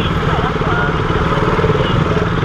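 A motorcycle engine drones steadily during a ride, picked up through a Bluetooth helmet intercom, a close, constant rumble with a voice talking over it.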